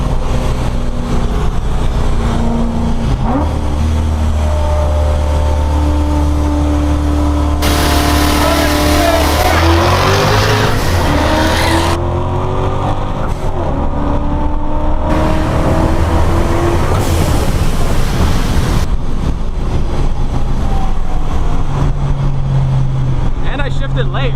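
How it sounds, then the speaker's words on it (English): A built 3V Mustang GT races a Whipple supercharged GT350 in Mexico, engines roaring loudly and continuously, revving up through gear changes with rising and falling pitch, with people talking over the noise. "I want to race Jimmy before my ship blows up or something."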